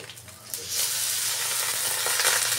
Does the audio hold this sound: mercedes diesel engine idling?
no